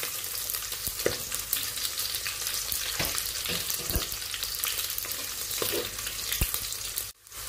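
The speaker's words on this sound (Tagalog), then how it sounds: "Mag-add na po tayo ng garlic. Mix natin siya hanggang mag-dry." Garlic frying in hot oil in a pan for a chicken and pineapple coconut-milk dish, a steady dense sizzle with scattered sharp scrapes and clicks of stirring, close and fairly loud throughout before stopping abruptly near the end.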